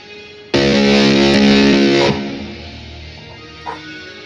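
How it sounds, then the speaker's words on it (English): A music track with a reverb effect sounds loud and dense for about a second and a half, then cuts off and leaves a long reverberant tail that fades, with one faint blip late. "there is actually a reverb from everything else"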